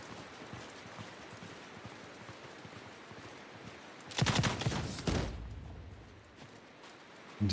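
Gunfire volleys from soldiers in a Warhammer Old Realms mod game: a sudden loud cluster of shots rings out over a low rumbling din, followed by a second burst and a fading tail.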